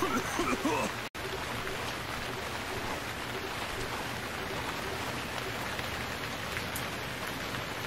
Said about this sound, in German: Der Regen ist so laut, dass ich das Gepaddel nicht mehr höre.